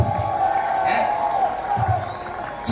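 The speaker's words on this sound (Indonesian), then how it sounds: "Tepuk tangan untuk kita semuanya." A crowd cheers and whoops at a Ramadan 2024 community gathering, loud and lively, with voices rising in bursts over a steady bed of crowd noise.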